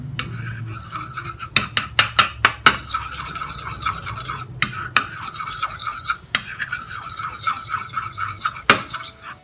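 A face pack of yogurt and rose water is stirred in a small bowl, giving quick rhythmic scraping and rasping strokes of a spoon against the sides in close, dry bursts with brief pauses.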